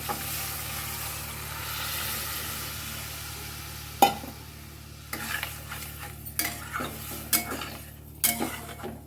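Boiled pea dal is tipped into spiced masala in a pan and stirred. A soft sizzle runs underneath, then a spoon scrapes and clinks against the pan in a series of uneven strokes.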